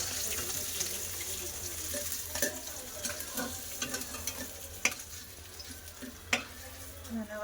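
Pieces of rohu fish fry in a pan with a steady, moderately quiet sizzle, punctuated by a few sharp spatters and spatula clicks, with no talking.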